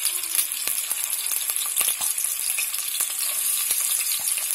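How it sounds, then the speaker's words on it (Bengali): Two tablespoons of onion frying in half a cup of oil, a continuous bright sizzle with sharp spattering pops and crackles scattered throughout, close and alone without speech. "আধা কাপ তেল দিয়ে দিলাম। এখানে আধা কাপ তেল দিয়ে দিলাম। তারপরে আমি হ্যাঁ পেঁয়াজ দিয়ে দিলাম 2 টেবিল চামচ।"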